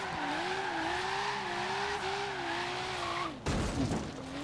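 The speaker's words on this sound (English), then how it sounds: "you can use the handbrake just to bring it back in ever so slightly" Car drifting with the handbrake in Forza Horizon 3, a long wavering tire squeal over a steady engine drone that ends abruptly in a brief burst of harsh rough noise.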